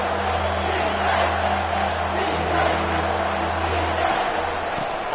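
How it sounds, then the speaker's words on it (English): A stadium crowd in a college football video game keeps up a steady, continuous roar and cheer throughout, loud and unbroken, with a low hum beneath it. "This crowd knows when to bring it."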